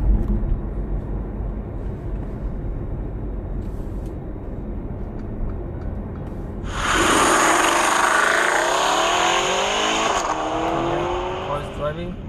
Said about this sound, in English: Car is driving.